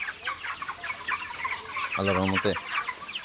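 Thirty-two-day-old chickens on a farm cluck and chatter close by, with one louder cackling call standing out, while someone talks over them.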